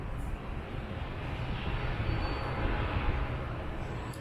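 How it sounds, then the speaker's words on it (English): Steady low broadband rumble of an airplane flying overhead, a continuous drone holding fairly constant for the whole stretch with no voices. "let's just wait for that airplane."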